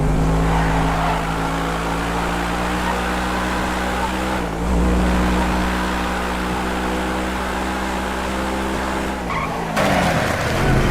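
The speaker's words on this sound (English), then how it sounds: "MP4-12C may sound like a fax machine, but this car is fast" A McLaren MP4-12C with a double-clutch gearbox races in GTA 5, its engine droning steadily at high revs with brief dips as it shifts, under continuous tire and road noise.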